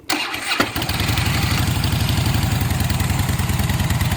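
A stock Harley-Davidson Fat Boy motorcycle cranks briefly, fires up and settles into a loud, steady, thumping idle close by, with no talking.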